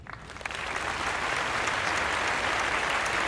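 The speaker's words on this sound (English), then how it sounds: "Standing ovation. Standing ovation." A crowd gives a standing ovation, sustained dense applause swelling in after a brief start and holding loud and steady until it cuts off, with no talking.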